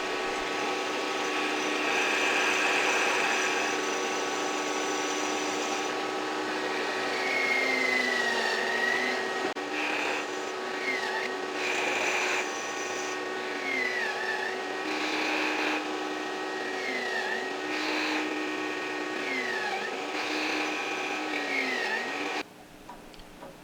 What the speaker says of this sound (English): I finally got to use my pocket hole machine for the reason I built it in the first place.